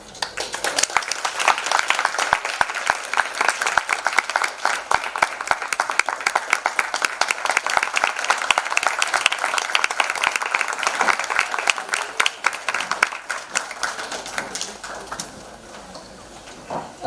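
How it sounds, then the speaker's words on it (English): Sustained audience applause after a yoga demonstration, dense rapid clapping from a large crowd that swells and holds steady before tapering off near the end, with no talking over it. "A big round of applause everyone for this one"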